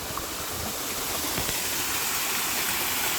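A waterfall and stream in a Kerala village rush in a steady, dense roar of flowing water, close and constant throughout with no voices.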